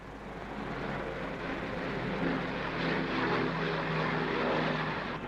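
A Royal Air Force propeller aircraft drones steadily and loudly throughout, a dense, continuous engine roar with no voices.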